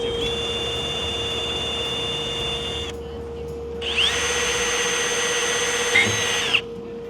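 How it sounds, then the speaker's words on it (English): A power drill runs in two long steady bursts, drilling holes in a Sling TSi airplane build, with a short pause between them and a faint constant hum underneath. "we need to drill that one out"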